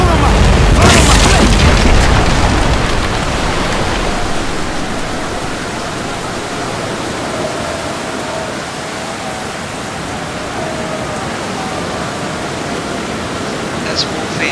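Ship cannons fire in a naval battle in Commander: Conquest of the Americas, giving a heavy boom at the start that settles into a long, loud rumbling roar with faint voices beneath.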